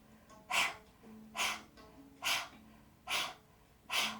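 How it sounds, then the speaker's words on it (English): Five sharp, forceful panting exhalations from a fire-breathing exercise, spaced about one second apart, close and breathy with quiet gaps between each burst. "We're going to start panting like a dog just to practice."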